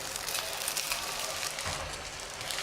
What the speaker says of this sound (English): you can saute your shallots